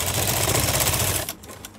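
Sewing machine stitching piping on a pleated blouse front, a fast close mechanical whirring run that stops abruptly near the end.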